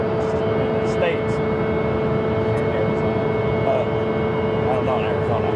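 A Southwest airliner taxis at Phoenix Sky Harbor airport (PHX), making a steady, loud engine drone throughout. A voice is heard faintly over the constant hum.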